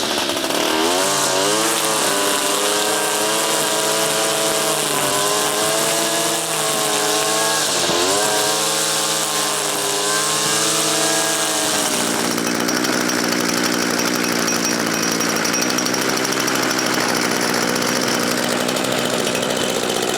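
An Echo SRM-231 string trimmer's small two-stroke engine runs steadily after a carburetor and trigger replacement, a loud, close, buzzy drone with shifting pitch early on before settling into an even note, with no talking.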